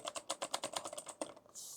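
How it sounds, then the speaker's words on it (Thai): Typing on an Onikuma mechanical keyboard: a quick run of about a dozen close, crisp clacky keystrokes in uneven rhythm, ending in a brief hiss, with no talk. "และสำหรับใครที่ชอบเสียงคีย์บอร์ดแบบนี้ บ็อกแป๊กบ็อกแป๊กแบบนี้"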